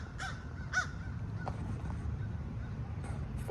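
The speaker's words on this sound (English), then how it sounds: "Fucking crows." Crows cawing outdoors, a few harsh calls at moderate distance in short bursts, with further fainter caws over steady low background noise.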